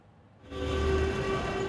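At Coimbatore railway station, a train's steady droning engine and tonal hum rise abruptly from near quiet and hold loud and close, with no talking.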